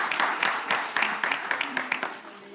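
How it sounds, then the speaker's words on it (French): An audience applauds a woman at a live televised event, with scattered bursts of clapping that rise and fall in uneven pulses, moderately loud in a large room. "Est-ce qu'on peut continuer à applaudir s'il vous plaît?"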